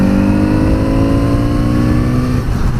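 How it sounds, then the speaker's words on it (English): A 2018 Kawasaki Z900RS motorcycle engine revs loud and close, a continuous rich drone with pitch sliding slightly as the throttle changes, no speech over it. "I don't know if they've paid attention to tuning the engine so it sounds good, but it certainly does."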